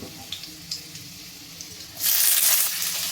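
Onion and capsicum frying in a pan with garlic and green chili give a soft sizzle with occasional light clinks, then swell into a louder, bright hissing sizzle near the end.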